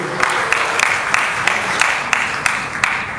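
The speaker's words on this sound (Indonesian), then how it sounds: "Tepuk tangan dulu untuk Bapak Agus Karmajid" An audience at a seminar claps for the speakers being introduced, a steady wash of applause with a regular pulse of sharper claps, moderately loud and sustained throughout.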